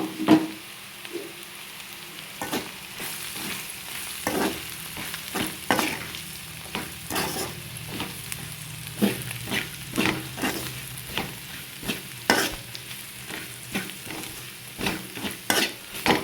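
Pieces of broad beans fry with chili powder in a hot pan, sizzling steadily. A spoon stirs and scrapes the pan with frequent sharp strokes throughout, close by, with no one talking.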